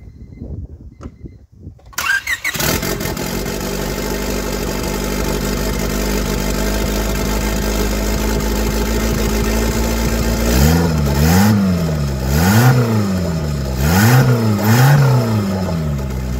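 A budget turbocharged Honda Civic engine cranks and catches after a couple of seconds, settles into a steady idle, then is blipped through several rising and falling revs near the end, loud and close with no talk.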